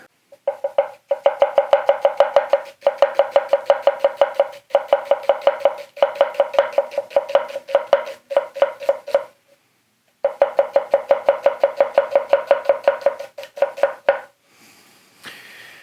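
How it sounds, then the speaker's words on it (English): A Ryusen kitchen knife chops vegetables on a board, first julienne and then dice, in long runs of fast, evenly spaced close taps. The runs break for a short pause near the middle, and no one speaks. "Okay, we'll do the julienne first, and then we'll go for the old diceroo."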